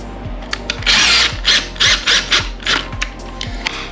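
A handheld power driver tightens size 5 screws on an electric scooter kickstand, a Varla Pegasus, in a series of short whirring bursts with brief pauses and a small clicking between them, close by and loud, with no talking.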